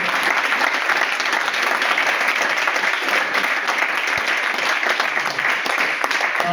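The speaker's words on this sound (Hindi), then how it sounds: "मेरे सामने सभी लोग एक बार जबरदस्त तालियां दें" Loud, dense applause from a large audience at a TIENS product demonstration event, sustained and even throughout with no pauses, a continuous roar of clapping hands.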